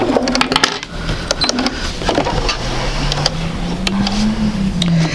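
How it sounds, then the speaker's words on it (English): A sewing machine stitches quilt pieces for a basic sampler quilt, giving a close, steady whirring hum with brief motor rises and pauses and some light clicks, without speech. "And you'll probably come right out this point right here as you sew."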